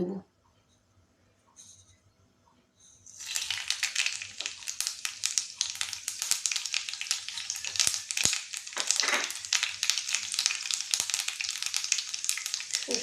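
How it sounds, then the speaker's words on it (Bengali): Mustard seeds drop into hot oil: after a near-silent start, a sudden loud burst of crackling sizzle sets in and keeps going, dense and spattering, close by for the rest of the stretch. "তেলটা গরম হলেই আমি এইটার মধ্যে এই সর্ষেটাকে দিয়ে"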